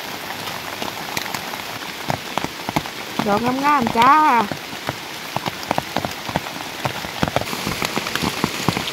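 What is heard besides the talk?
rain falling in the forest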